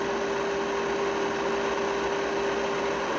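A standby generator runs steadily during a test run, giving off a constant hum with a strong tonal line over broadband mechanical noise and no breaks.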